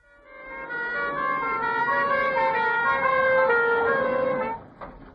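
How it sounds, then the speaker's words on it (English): A wailing police car siren rises and falls steadily as the vehicle races toward a scene, loud and close, cutting off abruptly near the end with no talk. "Police cars raced to the scene."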